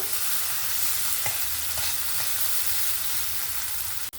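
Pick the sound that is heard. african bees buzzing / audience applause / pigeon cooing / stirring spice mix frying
stirring spice mix frying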